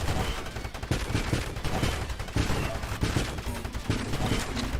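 Rapid, dense bursts of automatic turret fire in the space shooter game Nova Drift, loud and continuous with overlapping shots and impacts throughout.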